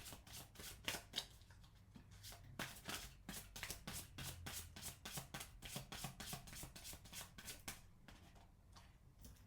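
Tarot cards being drawn out of a deck in a rapid, steady run of crisp flicks and slides, close and soft, with no talking.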